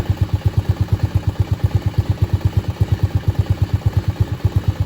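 A Honda Navi engine idles slightly fast, a steady, even rapid thumping pulse that is close and loud with no talking.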